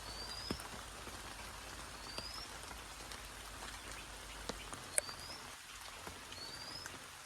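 Steady rain patters on leaves and ground, with scattered louder drips and a few faint distant bird calls.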